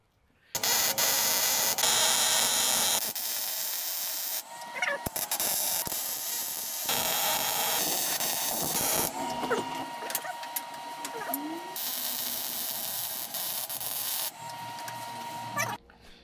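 Welding while framing a firewall opening and bracing: harsh, crackling arc hiss in several long runs of a few seconds each, stopping and restarting with short gaps between them.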